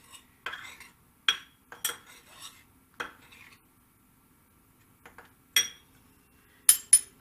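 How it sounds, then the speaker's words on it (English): A utensil stirring a flour, salt and pepper mixture in a bowl, heard as scattered close clinks and scrapes against the dish, separated by short quiet gaps with no talking. "And we'll stir that up a little bit."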